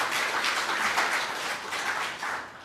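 A congregation at a Sunday homecoming church service applauds the choir, with a dense, steady clapping from many hands that tapers off slightly at the end.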